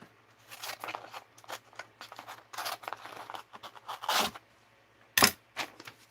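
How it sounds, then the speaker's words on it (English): Paper snippets being cut out with scissors, heard as a string of short, crisp snips and crinkles, some sharper and louder than others, close by with no talking. "Just cut these out."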